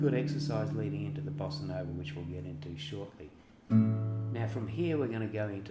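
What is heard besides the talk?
No distinct noise like a dog, phone or traffic.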